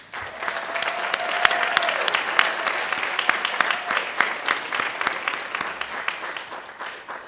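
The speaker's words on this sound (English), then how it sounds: "give you a big round of applause" An audience at an awards ceremony held at City Hall claps for an award recipient, steady applause with distinct sharp individual claps that holds for several seconds before easing off.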